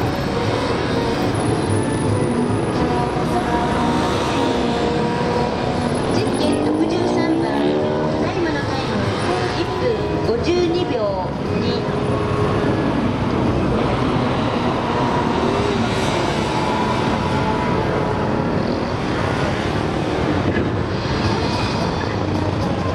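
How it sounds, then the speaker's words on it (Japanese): A Yamaha MT-03 motorcycle runs a motogymkhana course at a competition event, its engine revving and shifting pitch in bursts, partly masked by a broad crowd-and-PA wash as an announcer talks throughout. "MT03 と走っています"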